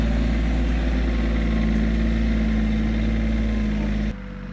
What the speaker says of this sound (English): Daddy's driving the tractor, huh?